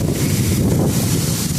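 Strong coastal wind during a thunderstorm buffets the microphone in a steady, loud roar of rumbling gusts with no voices.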